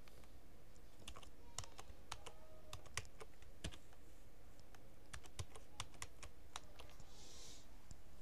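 Someone types on a computer keyboard, with brisk, irregular key clicks coming in quick bursts over a faint steady background. The key presses stay close and fairly quiet, and no voices are heard.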